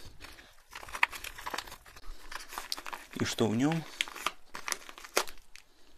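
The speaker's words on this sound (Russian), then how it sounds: "Ну а я возьму вот такой вот желтенький пакетик и разрежу его." A yellow plastic parcel bag from an AliExpress order crinkles and rustles as it is cut open, close and moderately loud, with someone talking over the handling.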